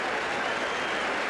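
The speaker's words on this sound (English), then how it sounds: "there's George Steinbrenner applauding the man who's putting all that money in the bank for him, Ron Guidry" Spectators at the 1978 AL East playoff between the Yankees and Red Sox applaud pitcher Ron Guidry as he leaves the game, a steady wash of clapping from a large ballpark crowd with no clear voices.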